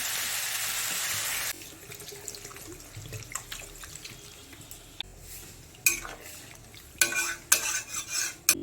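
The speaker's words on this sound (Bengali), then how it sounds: "এবার পরিমাণ মতো জল দিয়ে দেবো" Water added to a fish curry of bata fish with papaya and potato in a pan, a hissing rush at the start followed by scraping stirs, utensil clinks and sudden bursts of sizzling and bubbling.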